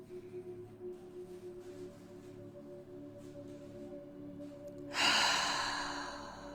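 A single audible breath pushed out through the mouth during a face yoga session, a loud breathy whoosh arriving after several seconds of quiet and fading out slowly.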